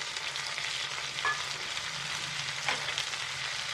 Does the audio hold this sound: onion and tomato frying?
yes